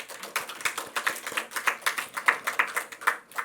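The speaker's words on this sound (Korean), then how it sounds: "박수 쳐야죠." Congregation clapping during a Sunday church sermon, a steady run of fairly quick, even claps from a small group, moderately close and without talk over them.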